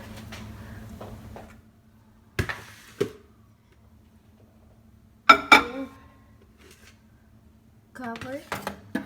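An egg dish is set into a microwave oven in a home kitchen: scattered clinks, a door handling clunk and beeps around quiet pauses, with a voice speaking between the sounds.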